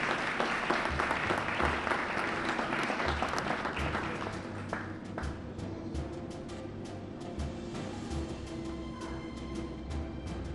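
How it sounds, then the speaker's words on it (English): Sustained audience applause at a district community relations awards ceremony greets an honoree, thick and even at first, then easing slightly while continuing steadily to the end. "Ladies and gentlemen, please your applause for Chai Min Chen."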